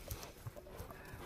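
A horse offered for sale in Özgön, Kyrgyzstan, its hooves giving a few faint, evenly spaced clops on the ground at a distance.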